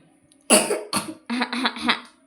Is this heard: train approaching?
no